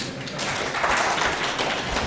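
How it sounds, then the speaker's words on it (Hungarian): A conference audience in Hungary applauds, a short dense wash of many hands clapping, steady and moderately loud with no speech. "Kérek tapsot!"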